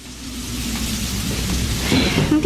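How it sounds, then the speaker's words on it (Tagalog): Heavy rain pours outside as a steady, dense hiss that swells slightly toward the end, with no voices. "malakas ang ulan sa labas"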